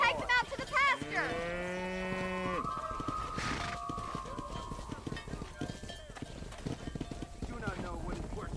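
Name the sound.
cattle mooing and hooves in the video game Red Dead Redemption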